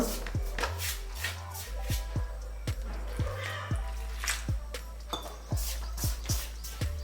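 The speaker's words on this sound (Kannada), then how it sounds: "ಇದಕ್ಕೆ ಸ್ವಲ್ಪ ಸ್ವಲ್ಪ ನೀರು ಹಾಕಿ ಮಿಕ್ಸ್ ಮಾಡಬೇಕು." Wheat chapati dough mixed by hand in a bowl with small additions of water, giving repeated close, soft slapping and kneading thuds in an irregular rhythm with light clinks, under a steady low hum.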